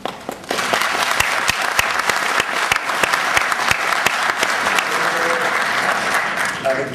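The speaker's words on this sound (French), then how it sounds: "Avec tous ces applaudissements" An audience at a forum applauds warmly, with dense, sustained clapping and some sharp individual claps standing out, steady and loud for several seconds before easing slightly at the end.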